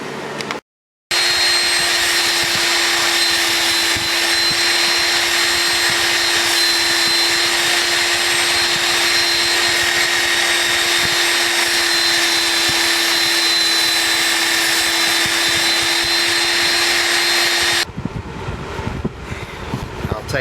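A handheld belt sander clamped in a bench vise runs steadily and loudly for most of the stretch with a constant motor whine, starting abruptly after a brief pause and cutting off near the end.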